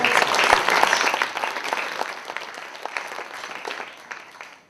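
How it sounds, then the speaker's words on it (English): A big round of applause at an awards dinner, many hands clapping together loud at first, then gradually thinning and fading out over a few seconds. "They deserve a big round of applause too"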